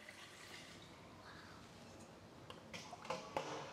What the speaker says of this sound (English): We are going to fill it up with water.